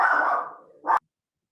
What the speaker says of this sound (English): Oh, sorry, my dog is just...